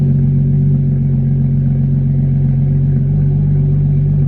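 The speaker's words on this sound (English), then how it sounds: "all we're doing is just kind of hearing the burble tune" A straight-piped BMW F32 435i idles after startup, its exhaust giving a deep, loud, close burble that rumbles steadily and grows slightly heavier near the end, with no voices.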